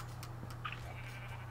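A sheep in a video game gives a short bleat, quiet and brief, over a steady low hum, with no talking.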